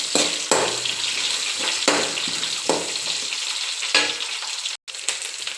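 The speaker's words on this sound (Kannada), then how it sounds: "ಈಗ 1 ಗೆಡ್ಡೆ ಈರುಳ್ಳಿ. ನೋಡಿ, ಈಗ ಫ್ರೈ ಮಾಡ್ಕೊಳ್ಳೋದು." Chopped onion fries in a pan with dried red chilies in a strong, hissing sizzle. Bursts of stirring scrape through it at intervals, and a brief dropout comes near the end.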